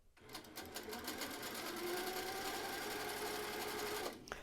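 A sewing machine stitches tight spiral quilting curls in a fast, continuous run of needle strokes with a steady motor whir, close and even, then stopping near the end.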